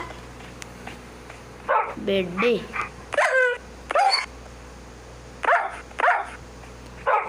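Several video game dog barks and yips come in short bursts, spaced apart, mixed with a person talking.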